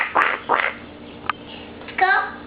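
A voice imitates a duck quacking during a playful round of animal noises with a child: a few short, nasal quacks in quick bursts, close and clear, with brief pauses between them.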